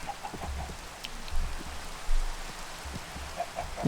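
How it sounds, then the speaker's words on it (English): Steady patter of rain on a surface in Minecraft, with scattered louder drops and a few faint bird calls. "it started raining"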